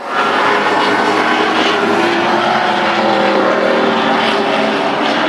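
Race cars roaring around a speedway track at Shangri-la 2 Speedway, a loud, continuous engine drone with shifting pitch as cars pass, no talk over it.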